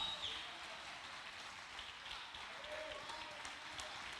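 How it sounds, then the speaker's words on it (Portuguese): A congregation in a church service claps in a steady, fairly quiet wash of applause that continues evenly for several seconds, with a faint voice briefly audible. "dá um aplauso a Ele, porque Ele é o Senhor."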